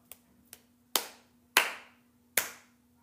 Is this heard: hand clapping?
yes